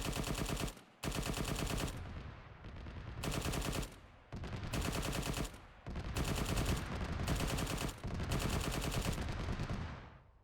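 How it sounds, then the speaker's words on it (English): A Mars heavy bolter fires in bursts in the ArmA 3 40K mod, each roar of rapid booming shots lasting about a second and broken by short pauses, loud and dominant throughout. "So let's just fire it off a little bit more just to show off some of the raw firepower."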